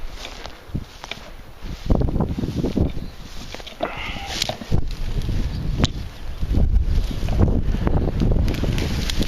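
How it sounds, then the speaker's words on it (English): Wind gusting outdoors at a campsite where breakfast is being cooked, rough buffeting rumbles that swell and fall across the whole stretch, mixed with brief handling noises close to the microphone. "The wind is just blowing up in there."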